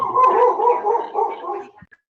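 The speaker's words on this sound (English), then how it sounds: "Is that your dog, Christian, or is it someone else?" A dog barks and yips in a quick run of close, fairly loud yelps, tapering to a couple of faint sounds at the end.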